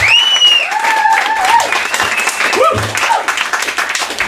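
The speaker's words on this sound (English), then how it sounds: "give another massive thank you round of applause to Elaine for such a wonderful" A live audience claps for Elaine at a fringe comedy show, a dense, steady round of applause with some voices mixed in throughout.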